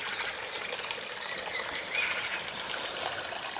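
A spring-fed stream flows beside an herb garden, giving a steady, even rush and trickle of water that holds at the same level throughout, with no voices.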